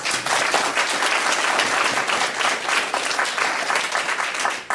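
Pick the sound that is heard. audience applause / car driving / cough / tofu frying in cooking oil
audience applause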